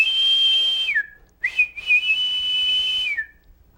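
A person whistles two long, high tones imitating a train whistle, each dipping down at the end, with a brief pause between them.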